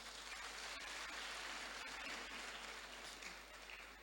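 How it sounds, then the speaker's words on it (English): Young people at a youth empowerment summit clap for themselves, a dense, even wash of applause that is fairly faint and distant and lasts the whole stretch, with no talk over it. "Clap for yourselves."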